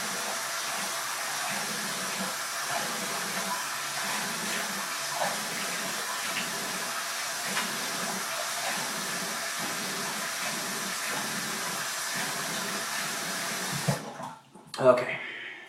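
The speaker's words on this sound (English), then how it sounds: "And then I'm going to rinse with cold water." Tap water running steadily into a sink while a face is rinsed with cold water after shaving, a constant close hiss with faint splashes, cut off abruptly near the end.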